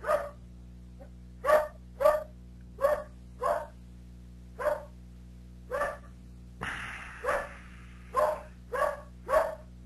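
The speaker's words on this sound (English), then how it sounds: "It's so upsetting it's even making the dogs bark." A dog barks in a steady series of about a dozen single barks, moderately close, over a constant low hum, with a brief burst of broadband noise partway through.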